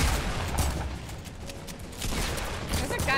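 Gunfire in the Fortnite Battle Royale video game, a string of sharp cracks, some close and some more distant, set among game noise, with a voice briefly talking.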